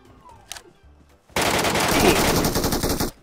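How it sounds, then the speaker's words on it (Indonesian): Sustained burst of automatic gunfire in a PUBG match on the Georgopol map, loud and continuous for nearly two seconds after a single earlier shot, dense rapid cracks with no voices over it. "Di depan ada orang tembakin"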